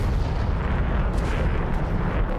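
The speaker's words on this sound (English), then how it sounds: "Now for unguided bombs, you have four types you can carry, the Mark 82s, 83s, 84s, and the Mark 20 cluster bombs" Unguided Mark 82, 83 and 84 bombs dropped from a JF-17 in the DCS flight simulator explode in a dense, rumbling roar of overlapping blasts, heavy low booms rolling continuously for the whole stretch, loud, with no talking.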